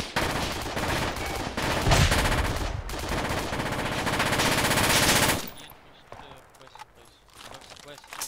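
Sustained machine gun fire in the Project Reality video game on the Kozelsk map, dense and loud for about five seconds before cutting off to quieter sounds.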